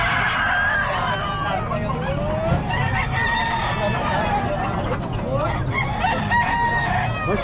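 Roosters and hens at a poultry sale crow and cluck close by and loudly, the crowing repeating steadily over a constant busy background of voices.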